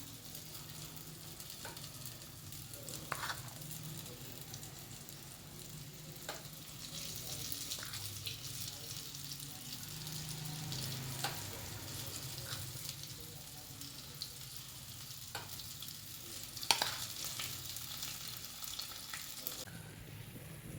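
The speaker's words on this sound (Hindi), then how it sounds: "ये मैंने इसमें डाले हैं फ्राई होने के लिए" Dahi bhalla batter fries in hot oil with a soft continuous sizzle, faint and close, broken by occasional clinks and scrapes of a spoon.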